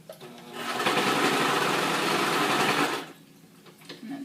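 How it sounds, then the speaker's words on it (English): A sewing machine stitches along the edges of a pillowcase, a steady fast whirring run of about two and a half seconds that starts up and then stops abruptly, close and loud. "Now we're going to go ahead and sew the edges."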